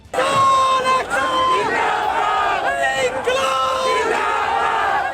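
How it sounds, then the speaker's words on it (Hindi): Hundreds of farmers protesting in the street shout slogans in loud, rhythmic call-and-response bursts, with the massed voices of the crowd rising together again and again over about five seconds. "कोरोना नियमों की अनदेखी करते हुए उन्होंने खूब नारेबाजी भी की।"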